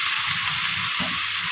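Water poured onto cut radish in a hot wok gives a steady, loud hiss and sizzle that holds without a break, with a soft bubbling thump partway through.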